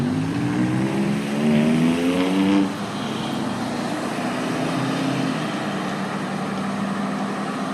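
Cars pass through a busy intersection on a Friday afternoon, one vehicle's engine rising and falling as it passes close by early on, then a steady wash of road traffic noise continuing in the background.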